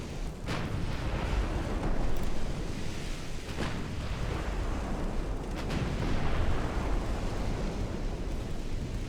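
Heavy naval guns fire high-explosive bombardment rounds in a WW2 battleship engagement in Ultimate Admiral Dreadnoughts. Repeated booming shots sound over a constant low rumble, with no talk.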